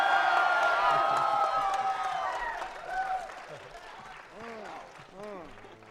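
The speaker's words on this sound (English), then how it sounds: "that cheer really helps me a lot" An audience at a Sonic 25th anniversary panel at SXSW cheers and applauds loudly, with whoops, then the noise tapers off and a voice speaks over it.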